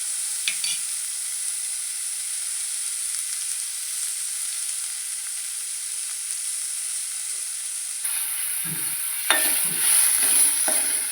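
Tindora (ivy gourd) masala curry ingredients fry steadily in a pan, a continuous soft sizzle with occasional stirring scrapes, louder and busier near the end.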